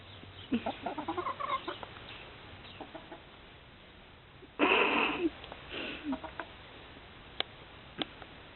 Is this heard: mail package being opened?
no